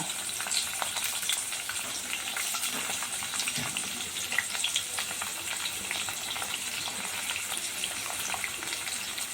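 Potato, carrot, green chili and coriander fry in a pan as tomato pieces are added for an egg biryani, a steady close sizzle with scattered crackles and stirring, no voices.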